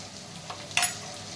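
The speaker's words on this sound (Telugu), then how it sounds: "కొంచెం ఫ్రై చేద్దామండి" Paneer frying in a pan with ginger garlic paste just added for veg fried rice: a low steady sizzle, with one brief louder burst of stirring and spattering near the middle.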